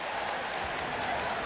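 Crowd cheering and applauding in a packed lacrosse arena with full stands on both sides: a dense, steady wash of clapping and roar, loud and continuous throughout without a break.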